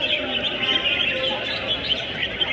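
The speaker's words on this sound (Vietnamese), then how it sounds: "một chú chim nào ấy cất tiếng ché lên" Competition songbirds calling at a bird-fighting contest in Cẩm Phả, Quảng Ninh, a dense continuous chatter of high chirps and trills over a busy crowd background.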